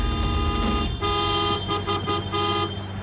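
A car horn honks in sustained, tonal blasts across the whole stretch, loud and near, with a brief dip in the middle before it sounds again.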